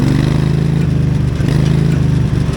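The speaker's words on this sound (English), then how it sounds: "That's 16 horsepower Briggs having to turn that diesel crankshaft and everything in these guts down here." Lawn tractor with a 16 horsepower Briggs engine driving a diesel crankshaft through a 2-inch exhaust pipe, a loud close-up steady engine drone with rhythmic pulsing firing and slight fluctuations in revs.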